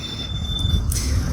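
A steady high-pitched squeal of brakes over a loud rumbling low roar, continuous and fairly close.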